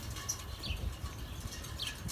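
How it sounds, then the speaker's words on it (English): Small birds flit around backyard birdhouses at dusk, giving a few faint, brief, high chirps spaced apart over a quiet, distant background. "The birds are very busy."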